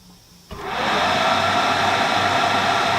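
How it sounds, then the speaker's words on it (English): A Monport 30W fiber laser's cooling fan starts after a quiet hum, jumping into a loud steady airy whir that swells slightly then holds constant, near and alone without voices. "you'll hear the cooling fan"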